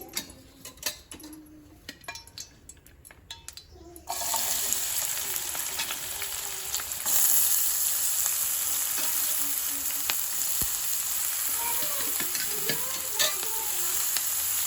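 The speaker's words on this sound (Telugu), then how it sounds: "ఇప్పుడు కట్ చేసి పెట్టుకున్న ఉల్లిపాయలు పచ్చిమిర్చి వేసుకోవాలి" Chopped onions and green chillies drop into hot oil for a home-style curry. After a few seconds of quieter clatter, a loud, dense sizzle bursts in and holds steady nearby, with occasional stirring clicks.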